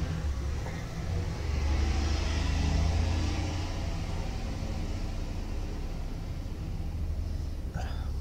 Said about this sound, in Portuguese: Lá vem caminhão.